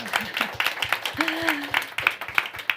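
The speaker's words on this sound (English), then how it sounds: "Let's give them a hand of applause." Scattered audience applause closes a panel at an industry side event on biodiversity, with sparse, irregular hand claps and a voice talking over them.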